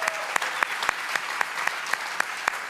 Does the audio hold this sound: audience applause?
yes